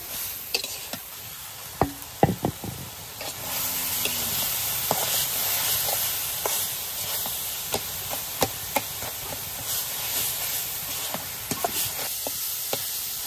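Chopped banana stem being stirred in a pan gives intermittent scraping and clacking spoon strikes over a steady frying hiss, fairly close, with no talking.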